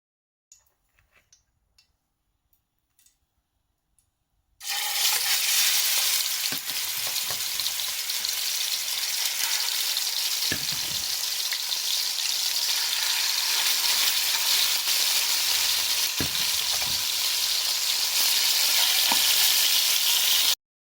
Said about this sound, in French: je vais rajouter mes carrés d'agneau dans de l'huile pour les faire dorer